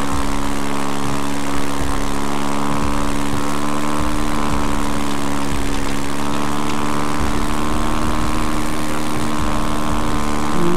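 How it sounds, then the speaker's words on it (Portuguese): Quad bike engine in the game GTA RP, a steady loud motor drone with strong harmonic tones, running continuously at close range with no talk. "o quatriciclo é rápido demais, mano."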